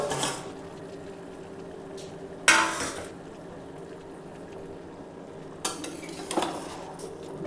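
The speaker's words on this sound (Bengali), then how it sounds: "ঢাকাটা খুলে ভালো করে একবার নাড়িয়ে নিচ্ছি।" A lid comes off a pot of chicken korma with potatoes cooking on low heat, and a spoon stirs it. Sharp metallic clanks break out at intervals over a soft, steady background of cooking and scraping.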